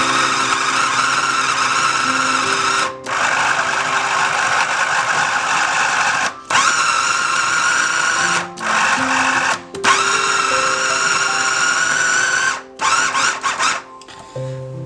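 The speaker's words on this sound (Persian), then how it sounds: "ببینید در ظرف 5 ثانیه براتون گوشت کوفته میکنیم" An electric meat grinder whines loudly as it minces meat and onion for kofta, running in several long bursts with brief pauses in between.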